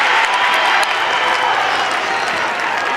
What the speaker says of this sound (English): The crowd roars at the QEO.